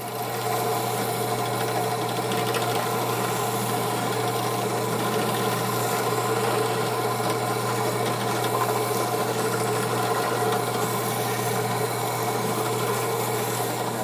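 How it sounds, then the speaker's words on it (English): A drill press fitted with a small sanding bit-attachment sands wood with a steady, unbroken motor whine and a rough rubbing hiss. It runs close and loud throughout, with no voices. "I've put a little sanding bit attachment in the drill press, and I can just slide it in like this, and then sand around."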